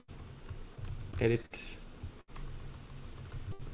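Typing on a computer keyboard while using a text tool in vector graphics software during a class; brief clicks of keys sound under steady nearby speech.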